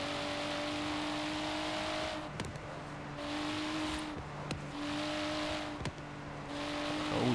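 Alienware car in Forza Horizon 3 revving its engine, a steady droning hum broken by sharp rev bursts and gear-shift dips, loud and close with no talking.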